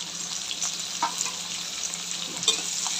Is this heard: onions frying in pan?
yes